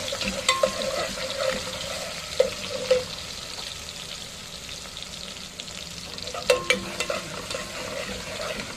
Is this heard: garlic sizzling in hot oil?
yes